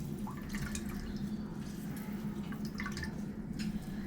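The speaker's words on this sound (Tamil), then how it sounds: "நம்ம இனி இதை நல்லா புழிஞ்சு எடுத்துடலாம்." Water drips and trickles steadily from homemade paneer as it is squeezed by hand in a cotton cloth, a continuous close, wet patter with no talk.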